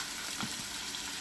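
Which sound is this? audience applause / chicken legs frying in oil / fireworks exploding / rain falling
chicken legs frying in oil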